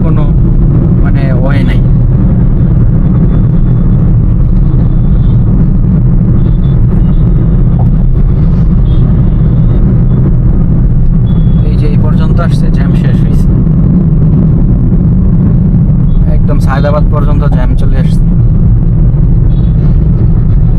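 Dense road traffic jam with cars and motorcycles, a steady low engine rumble and idling throughout, with occasional horn-like bursts, while someone talks over it.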